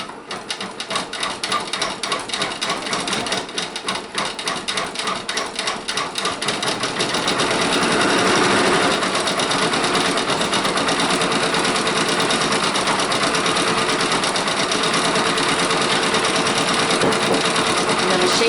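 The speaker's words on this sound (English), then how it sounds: "the machine says I have 2 more minutes of sewing" A Brother Persona PRS 100 embroidery machine stitching a reindeer applique with a fast, rapid needle chatter, uneven and stop-start at first, then settling into a steady, continuous whirring rattle close by.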